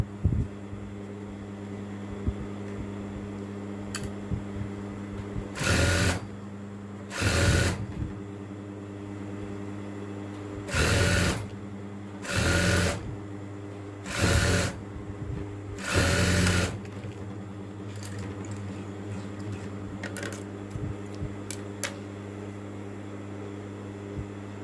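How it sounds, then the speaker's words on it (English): A sewing machine stitches a padded hijab cap onto a hijab, running in six distinct bursts of rapid stitching, each one to two seconds long, separated by quieter pauses over a steady low background hum. "You just sew it to your hijab the normal way you sew a normal hijab cap to it."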